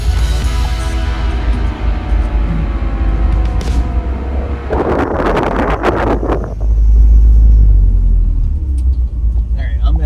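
A Toyota 4Runner with a supercharged 22RE engine rumbles low and steady, then surges louder as it pulls away, with a person talking over the engine noise.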